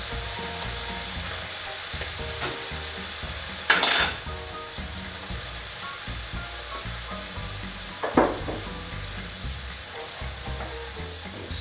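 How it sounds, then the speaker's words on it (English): Apple cider vinegar being stirred into a hot pan of beef birria, with steady sizzling and frying throughout and two sharp scraping clinks of a utensil against the pan. "Stir that around, and that will soak up all that good stuff that's in the bottom of the pan"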